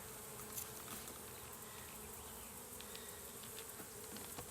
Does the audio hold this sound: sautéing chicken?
no